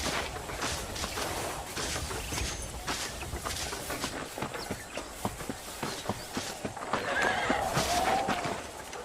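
A horse in the PS3 game Red Dead Redemption, with steady rhythmic clip-clop hoofbeats walking along, then a loud, drawn-out neigh and whinny rising near the end over the hooves.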